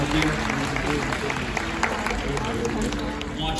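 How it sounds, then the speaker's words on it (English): An audience at a Six Flags Fright Fest show applauds, a dense wash of clapping under a presenter's voice, with crowd noise filling the whole stretch. "Give them a round of applause."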